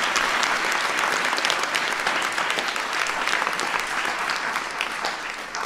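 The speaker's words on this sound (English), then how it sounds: "So give Anirudh a big round of applause." Loud, sustained audience applause at the White House Science Fair for a young student presenter, dense clapping filling the room for several seconds and easing slightly at the end.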